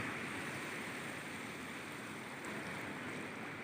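Overflowing water of the flooding Tamiang river in Aceh, a steady broad rushing roar with no breaks, fairly faint and alone.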